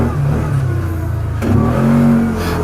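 A Kawasaki Teryx side-by-side's engine accelerating, a close mid-pitched engine note that holds, dips, then climbs again in a second rev as it gets going.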